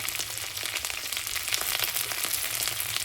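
Spring onion stalks frying in a pan with cauliflower and potato make a brief, continuous crackling sizzle, close and fairly quiet, with no voices.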